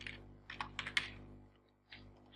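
Fingers tap on a computer keyboard in a quick uneven cluster of clicks, then a brief pause before a few more keystrokes, all near and fairly quiet with no talking.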